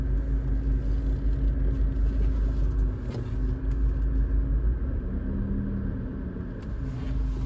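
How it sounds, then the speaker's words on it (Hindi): An automatic car creeps forward on its own with no pedal input, its engine giving a steady low rumble close by, continuous and unbroken throughout. "अब यहाँ पर देखिए हमने सब कुछ छोड़ दिया है लेकिन गाड़ी मूव कर रही है"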